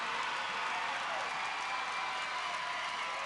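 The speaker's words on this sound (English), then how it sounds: "Their crowd's starting to get in it." At a volleyball championship match, an indoor crowd cheers and applauds in a steady, fairly distant roar, with faint voices mixed in.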